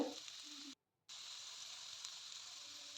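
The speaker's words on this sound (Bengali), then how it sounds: "মোটামুটি ফাইনালে ভাজা হয়েই গেল" Chicken pakora finishing in hot oil, a steady quiet hiss of frying that cuts out briefly before resuming evenly, heard close with no talk.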